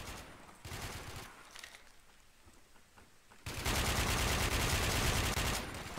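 Bursts of automatic gunfire in the shooter game Warmode, a loud sustained volley close by after quieter, more distant shooting, continuous rapid fire with no talking.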